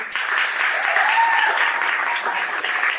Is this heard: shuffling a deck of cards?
no